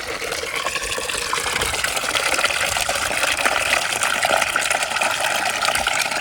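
Water pouring steadily into a container for birds to drink, a continuous gushing splash that stays close and fairly loud throughout, with no talk.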